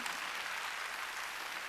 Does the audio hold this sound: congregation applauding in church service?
yes